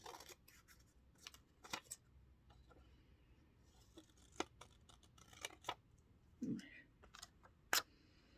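Scissors trim the edges of a paper printout in a quiet room, giving a few faint, scattered snips and rustles with long pauses between them.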